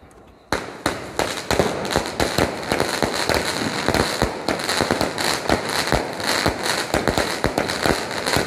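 Snowblind 25-shot firework cake firing in a rapid, nearly continuous barrage of sharp pops and crackles for about eight seconds, loud and close after a brief quiet start.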